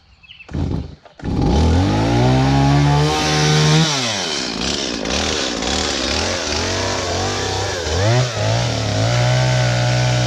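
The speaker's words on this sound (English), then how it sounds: "See if I can get this chainsaw started and we'll get her cut." A chainsaw sputters with a couple of short pulls, then fires up and runs loudly, its engine revving up and dropping back to idle several times.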